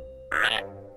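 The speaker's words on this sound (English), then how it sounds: "Ribbit, ribbit, Mr. Froggy" A single short frog croak bursts out over a steady low hum, loud and close, then fades quickly into the background drone.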